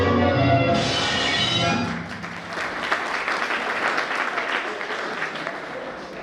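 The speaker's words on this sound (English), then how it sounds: "give a huge round of applause for this awesome dancing performance" Applause for a student dance performance at a college tech fest takes over as the music fades, a dense steady clapping from an audience that carries on to the end.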